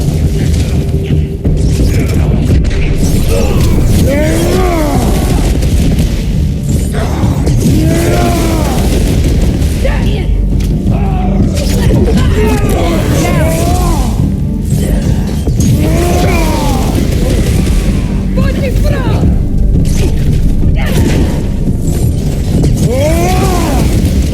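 Booming explosions from incoming fire in the video game God of War Ragnarök, loud and continuous under a dense battle din, with repeated rising and falling cries and impacts throughout.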